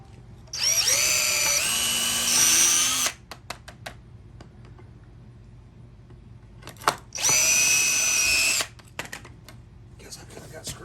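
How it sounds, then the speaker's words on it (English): A power drill with a new 1/8 inch bit pre-drills holes in wood for a rug tufting frame, two loud whining bursts of about two to three seconds each, with clicks and handling noises between them. "This is an 1/8 inch bit. I'm just using a pre-drill."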